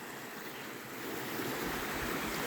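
Creek water running beside a forest trail lined with bridges and big cedar trees, a steady, close broadband rush that swells slightly louder midway and holds constant with no voices.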